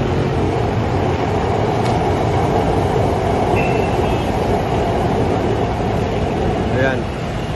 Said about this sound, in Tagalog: ayan po yung LRT oh. Yan, LRT 2 going to Antipolo.